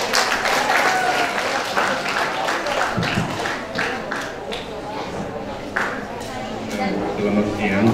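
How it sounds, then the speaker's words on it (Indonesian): An audience at a school psalm musicalisation competition applauds a judge, sustained clapping throughout, with a voice speaking over it on a hall PA. "Oke, berikan tepuk tangan untuk Pak Adin"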